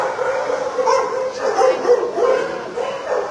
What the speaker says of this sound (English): What do you think the chances are of these dogs getting out, Chevy?